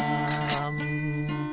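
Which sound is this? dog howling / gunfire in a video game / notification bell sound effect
notification bell sound effect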